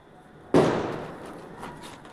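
A Diwali firecracker bursts once with a sharp, loud bang, followed by a fading crackling tail and faint background noise.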